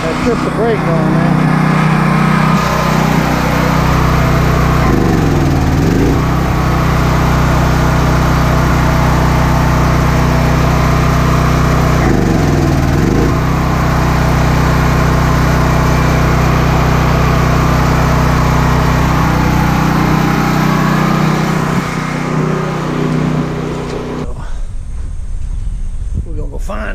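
A Duromax XP10000EH portable generator engine runs steadily under load during a power outage, a loud continuous drone with brief dips and recoveries in pitch, then the sound cuts off near the end.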